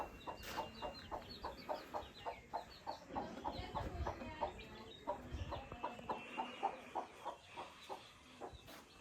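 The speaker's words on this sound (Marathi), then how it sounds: "कोंबडीची पिल्लं" Chickens and chicks on a village farm cluck in a steady run of short, repeated calls, fairly close and alone, with a busy chorus of overlapping clucks and peeps throughout.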